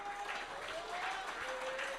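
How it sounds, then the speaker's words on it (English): Applause from a crowd at an under-19 cricket awards presentation honoring the best batsman, a steady, dense patter of clapping at moderate distance with a voice faintly audible over it. "A loud round of applause for Mr. Tariq Edwards."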